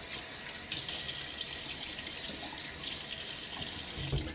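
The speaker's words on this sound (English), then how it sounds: "get my face wet" A bathroom tap runs steadily into a sink as water wets a face before a shave, a close, constant hiss and splash with slight changes as hands move through the stream, and no talking.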